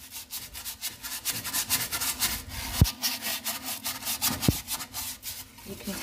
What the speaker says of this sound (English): if you get your toilet brush and you get it a little bit wet and you get some of the product on it, and you can actually just have a proper little scrub